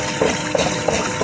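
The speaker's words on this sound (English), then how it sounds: "can see the water running through" Water is pumped through a homemade sapphire pulsator, giving a steady liquid rush with small periodic surges, close and fairly loud, with no talk.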